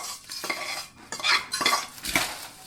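Makhana chivda stirred with a metal ladle in a pan, giving several short scraping clinks and rattling bursts in an uneven rhythm, close and fairly loud, with no talking.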